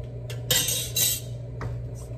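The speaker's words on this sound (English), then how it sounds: "Let's mix this together." A utensil scrapes and clinks against a bowl while chili ingredients are mixed together, giving a few short metallic strokes over a steady low background hum, with no voices.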